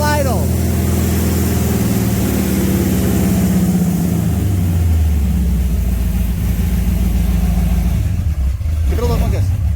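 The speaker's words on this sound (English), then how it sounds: "We're gonna see if it'll idle now." High school project car engine idling loud and close after break-in, a rough steady rumble with some revving swells, continuous throughout with people talking over it.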